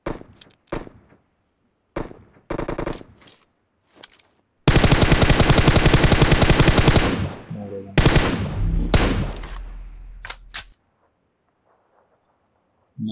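Automatic gunfire in the mobile battle royale game PUBG Mobile on the Sanhok map: scattered single shots and short bursts, then a loud sustained burst of about six seconds, followed by further bursts and quiet gaps.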